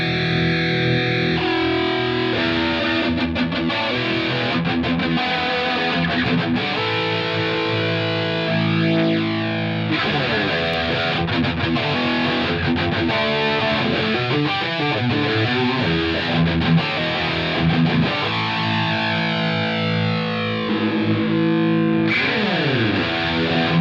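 Electric guitar played through a Line 6 Helix Double Take doubling effect with slop gradually raised, distorted chords and riffs sounding thick and slightly smeared, continuous and upfront with no voice.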